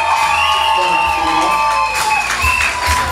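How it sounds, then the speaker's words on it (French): Guests at a civil wedding ceremony in Gabon applaud and cheer, a sustained crowd of clapping with whoops and shouts and a voice talking over it throughout. "Des applaudissements, chers invités."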